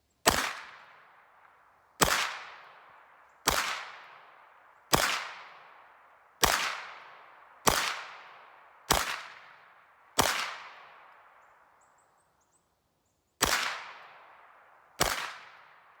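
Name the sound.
Hi-Point 995TS carbine gunshots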